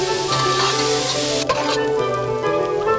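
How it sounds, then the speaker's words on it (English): Onions sizzle in a large pot over medium-high heat, a loud, close, continuous frying hiss with stirring scrapes, and a brief knock partway through before the sizzle settles slightly quieter. "In a large pot over a medium-high heat, sweat down the onions"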